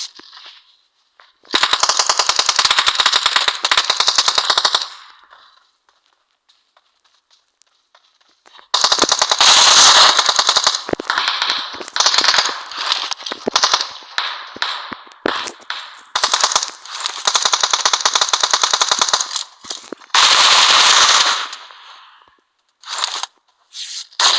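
Automatic gunfire in the mobile battle royale game PUBG Mobile, loud bursts of rapid shots lasting several seconds each, separated by short gaps, with a final few brief volleys near the end.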